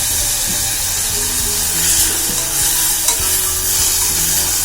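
Loud continuous sizzling of vegetables frying in a pan, with occasional scrapes and knocks of stirring throughout.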